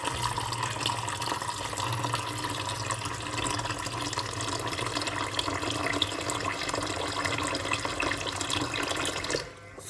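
Tap water, hot, pours steadily into a sink while a lemon cleaning detergent is being mixed, a continuous close rushing flow for about ten seconds that cuts off abruptly near the end.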